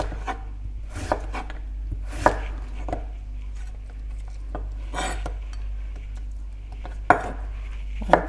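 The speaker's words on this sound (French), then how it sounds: "On coupe en julienne." A knife cuts turnip into julienne strips on a board for cabbage kimchi, with crisp, uneven chopping taps and a few sharper knocks spread across the stretch, with no voices.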